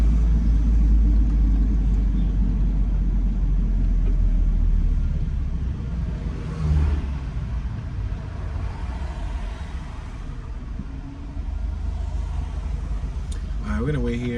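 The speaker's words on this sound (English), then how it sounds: "There's a bunch of traffic, as you guys can see." Steady low road rumble of car traffic while driving through Salem, Massachusetts, a continuous engine and tire drone with passing vehicles, heard alongside someone talking.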